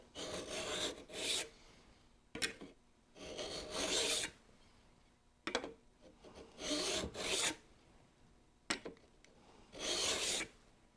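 Steel burnisher stroked along the edge of a card scraper to turn a cutting hook, a series of about five close, rasping scrapes with short pauses between them, alone with no talk.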